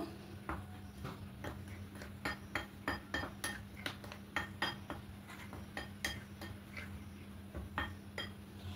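A spoon stirs mango batter with a little baking soda in a metal bowl, making repeated close clinks and scrapes in a steady rhythm over a faint low hum.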